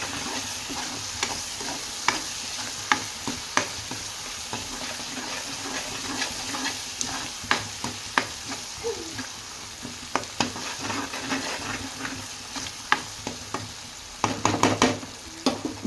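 Paneer curry mixture stirred in a hot pan, a spoon scraping and clacking in irregular sharp knocks over a steady low sizzle, with a brief burst of quicker scrapes near the end.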